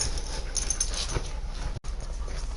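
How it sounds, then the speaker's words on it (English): A pet dog whimpers softly indoors in a faint, continuous whine with small yips, close by and fairly quiet. "Puppy dog, you gotta lay down, honey."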